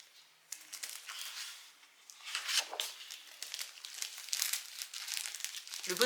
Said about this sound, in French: Le bruit que vous entendez, c'est Natsu qui mange du papier.